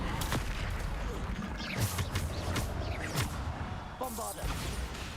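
Bombarda explosion spells go off in Hogwarts Legacy, a rapid string of sharp booming blasts and crashes amid battle noise.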